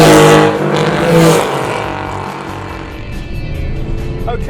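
Modified Porsche 964 Carrera cars drive off with a close, loud engine roar that swells briefly and then settles into a steady, lower drone as they cruise.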